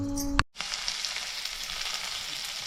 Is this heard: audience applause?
no